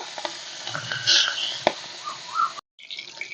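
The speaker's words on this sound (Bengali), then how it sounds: "এবার চিংড়ি মাছগুলো আমি ভেজে নেব।" Salted, turmeric-coated prawns fry in hot oil with a close, crackling sizzle and bright spitting bursts, some scraping stirs, then a brief cut to silence before the sizzle resumes.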